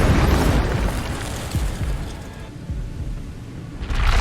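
An Incendio fire spell erupts in Hogwarts Legacy as a loud, booming blast with a heavy rumbling low end that decays and then surges again near the end, without any talking.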